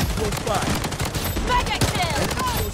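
Shotgun blasts and rapid gunfire pound steadily in the mobile shooter Blood Strike, dense and loud throughout the short stretch.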